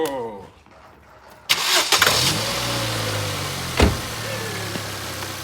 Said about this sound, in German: Lass mal die Maschine laufen und schauen wir mal genau hier an.